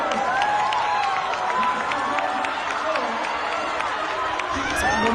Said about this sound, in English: Here's the moment that this biological boy was crowned as the state champion and booed.